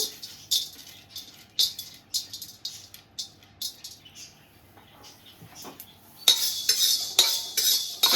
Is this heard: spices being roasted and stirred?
yes